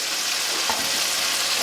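Catfish deep frying in hot oil, a dense continuous sizzle and crackle heard up close, with no voices.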